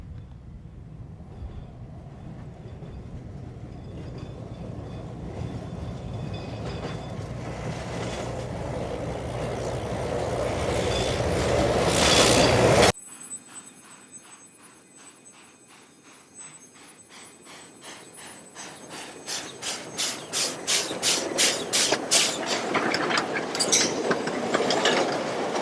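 A diesel rail bus and flat car run on rails in a mine pit. A loud rumbling engine builds, then cuts off abruptly, followed by a rhythmic clatter of wheels and couplings that slowly grows louder.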